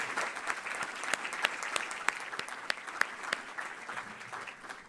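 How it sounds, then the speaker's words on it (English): Audience at a talk applauding sponsors and supporters, a steady burst of clapping from many hands with a few sharper claps standing out, lasting several seconds. "Round of applause for all of our sponsors, supporters, and for all of you for being here."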